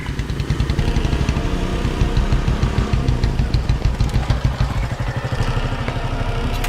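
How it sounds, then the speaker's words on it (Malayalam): A motorcycle engine runs steadily with a rapid, throbbing low putter and mechanical clatter, loud and close throughout, with no talking. "ചേട്ടാ ബൈക്കിന്റെ സൗണ്ട് കേൾക്കുന്നുണ്ട്."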